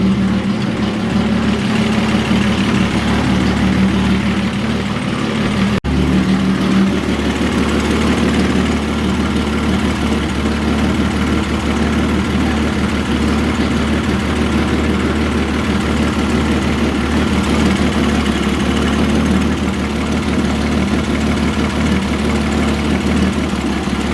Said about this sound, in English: there's definitely an exhaust leak right there